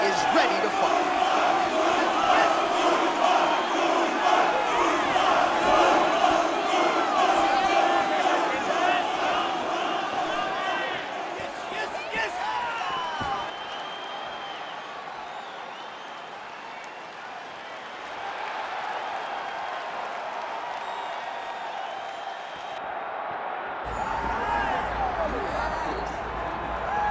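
A virtual UFC 6 arena crowd roars loudly and continuously for a simulated Dricus Du Plessis versus Kamaru Usman fight, dropping in intensity partway through and then swelling again, with some clapping mixed in.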